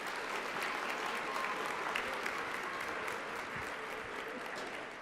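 An academic conference audience at a plenary session breaks into sustained applause, a thick, steady patter of many hands that fades slightly toward the end, with faint voices beneath.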